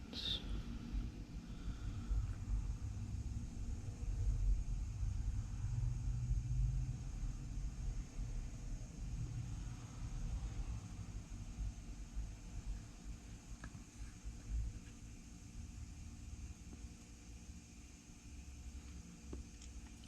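A smoke machine pumps smoke into the EVAP system of a 2013 Ford F150 with a P0456 leak code, making a steady low droning hum that runs unbroken for the whole stretch, with no talking.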